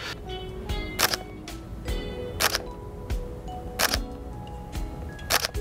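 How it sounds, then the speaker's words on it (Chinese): Fujifilm X-T2 camera shutter clicking close by, around eight crisp mechanical snaps spaced roughly a second apart, some doubled, each sharp and brief against a quiet room with no speech. "这个是 XT2 的快门声。"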